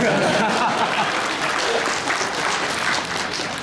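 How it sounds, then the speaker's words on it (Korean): Audience applause fills a church student retreat hall, a steady dense clapping that runs the whole time with a bit of laughter mixed in. "박수를 쳐야 되나요?"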